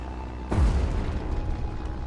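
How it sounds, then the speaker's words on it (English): A single explosion in the combat flight game Red Wings: Aces of the Sky: one low, muffled boom hits suddenly and rumbles away over a second or so at moderate distance, with no talk over it. "I heard an explosion."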